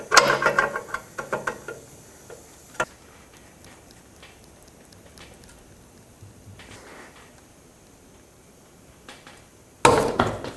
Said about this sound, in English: So now let's unbolt it.